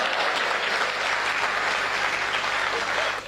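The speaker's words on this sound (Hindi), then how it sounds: "एक बार तालियां ठोक के बताइए" Dense audience applause at a Hindi stand-up comedy show, a steady, loud wash of many hands clapping that holds for about three seconds before easing off at the very end.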